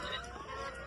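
A rooster in a chicken coop gives a short burst of clucking, close and moderately loud against a dense, noisy background.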